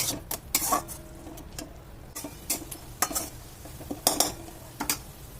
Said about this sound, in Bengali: দিয়ে সমস্ত মশলাটা আবার একটু ভালো করে কষিয়ে নেব।